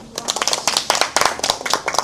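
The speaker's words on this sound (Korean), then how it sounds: "양 팀 모두 다 열심히 잘해줬습니다. 그런 의미에서 박수 한번 줄까요?" Classroom of elementary students applauding both debate teams at the close of a reading camp debate, a burst of scattered clapping lasting about two seconds, moderately loud and uneven.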